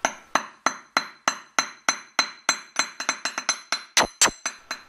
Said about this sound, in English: I'm then going to hammer the other end flat in the same way